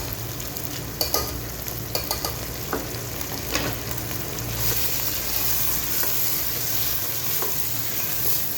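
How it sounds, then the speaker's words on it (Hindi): Mutton with yogurt fries in a handi for a Mughlai dish, a loud steady sizzle broken early on by sharp clicks of a spoon stirring against the pot, then settling into continuous crackle with no talking. "हम इसको फ्राई करेंगे।"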